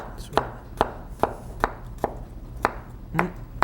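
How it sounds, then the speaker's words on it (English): A knife chops jicama into thin julienne strips on a cutting board, six or seven crisp knocks in a steady, fairly quick rhythm, close and clear. "And then you want to cut it into strips."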